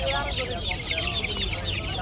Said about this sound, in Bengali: কক মুরগির বাচ্চা